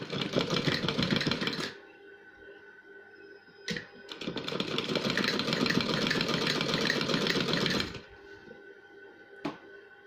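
A sewing machine stitches cloth for a ballerina cushion cover, running in two long, steady bursts of rapid mechanical whirring with short bumps and quiet gaps between, close and fairly loud with no talking.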